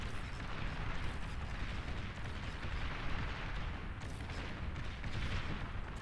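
Rumbling barrage of rocket launches and weapon fire from a battle between grunts and thugs in the real-time strategy game Beyond All Reason, dense and continuous with deep booms layered throughout.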